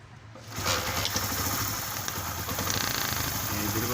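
A Honda motorcycle engine idles close by, steady and throbbing without a break after a brief quiet start. The bike was brought in over an engine noise problem.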